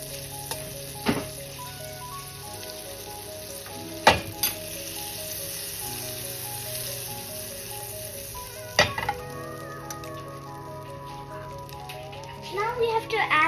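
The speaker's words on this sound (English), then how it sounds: "Now we have to add some butter in a pan" Butter frying in a pan for homemade Schezwan noodles gives a steady, moderate sizzle throughout, broken by a few sharp clinks of utensils and a burst of stirring at the end, with no talking over it.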